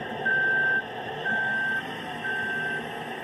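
Reversing beeps from a bus in the Roblox video game, three evenly spaced long electronic tones over a steady engine hum, fairly loud and close with no talking.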